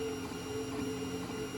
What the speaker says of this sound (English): I'm printing a benchy now, so we'll see how it goes